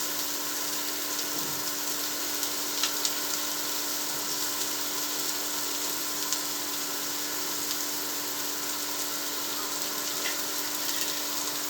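Onions frying in a pan for a curry-leaf egg fry, a steady soft sizzle with faint crackles running throughout at low level, with no talking.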